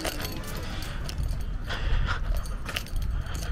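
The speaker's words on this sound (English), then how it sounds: "I'm just gonna move my keys, hold on." Keys jangle and clink in a hand inside a large indoor mall, a continuous light metallic rattling with bright scattered clinks over a busy, roomy background.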